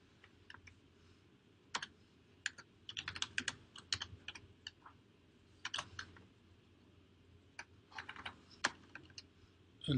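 Someone types a command on a computer keyboard in a quiet room, with irregular bursts of crisp key clicks and short pauses between them.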